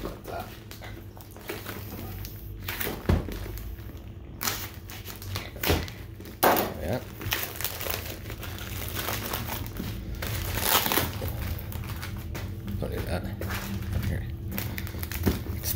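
Cardboard shipping box holding a WindCamp LiPo battery set for an FT-817/818ND radio, already opened and resealed with tape, crinkling and crackling as it is handled and torn open, close and steady with a few sharper rips.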